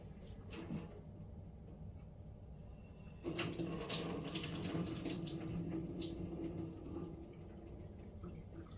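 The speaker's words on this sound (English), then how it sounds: "So what I did was I drained the can and then I rinsed the corn." Tap water runs over drained canned corn in a strainer at a kitchen sink, a faint trickle that turns into a fuller, steady rush about a third of the way through and keeps flowing.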